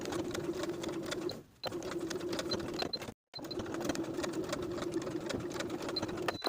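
A home sewing machine stitches a boxy top's shoulder, running from the neckline down through the facing along the main seam. Its steady, close buzzing comes in continuous runs, broken by two brief stops.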